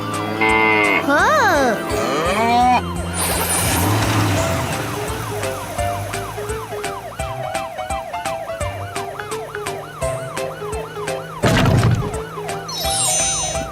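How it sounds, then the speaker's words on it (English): A cow moos loudly amid a busy mix of wavering, siren-like tones and bursts of noise. A brief vocal sound is heard in the mix. "cow."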